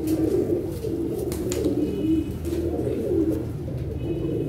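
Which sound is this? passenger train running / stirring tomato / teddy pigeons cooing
teddy pigeons cooing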